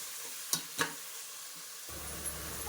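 Onions with curry leaves frying in a pan for chicken biryani make a faint, steady sizzle, broken by two sharp scrapes of a stirring spoon early on and a low hum rising in the background partway through.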